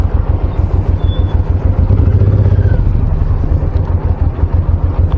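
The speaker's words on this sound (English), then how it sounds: "So just park my motorcycle over here." A Honda VTX1800 motorcycle engine idles loudly and steadily nearby while parking, a low, throbbing rumble with a slight rise in revs partway through.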